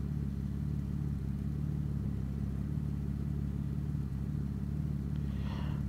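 A car engine idles steadily in the video game The Final Station, a constant low rumble running throughout with no speech, plus a brief faint higher rattle near the end.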